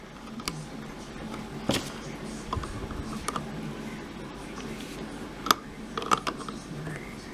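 A 13mm nut is tightened onto the starter cable of a 2006 Montana minivan, giving sparse metallic ratchet clicks and small clanks close by over a low hum.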